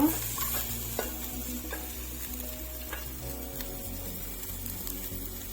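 Tempering spices sizzle in a pan for matikalai dal, a dense continuous hiss with light stirring scrapes, close and steady, alone without speech.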